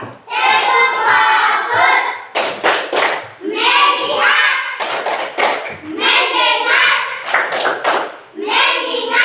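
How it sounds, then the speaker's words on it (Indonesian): A classroom of children does a rhythmic 'tepuk fokus' clapping chant, chanting loudly together between short clusters of sharp group claps in a patterned beat. "Ayo kita semua tepuk fokus. 1, 2, 3."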